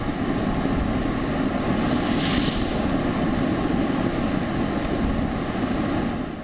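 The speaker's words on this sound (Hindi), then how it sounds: "ताऊ-ते तूफान से भारतीय तटों पर लहरों का उफान देखिए" Ocean waves surge heavily against the Indian coast during Cyclone Tauktae, a loud continuous roar of surf mixed with buffeting wind noise and no voices.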